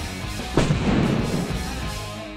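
A single large-calibre gunshot is fired at armoured vehicle glass, a loud sharp crack followed by a booming rumble that slowly fades.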